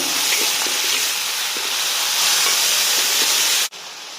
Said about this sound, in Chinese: 倒入我们准备好的这个3斤牛杂。 然后呢，翻炒均匀。